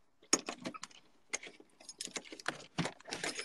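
A bunch of house keys jangles as it is handed over, several bright metallic jingles and rattles in quick bursts, close and clear.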